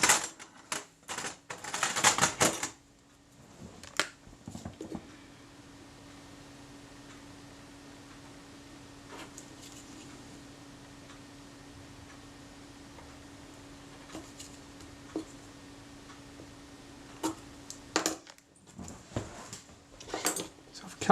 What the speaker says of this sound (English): I want to cut that out now while I've got the opportunity.